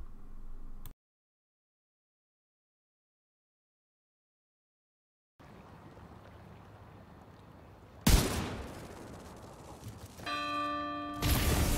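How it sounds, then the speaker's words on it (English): A clock tower bell rings in the video game The Division 2, loud and bright, struck amid gunfire-like bursts after a stretch of silence, with its ringing tones sustained toward the end. "Okay, bell rang, hunter spawned."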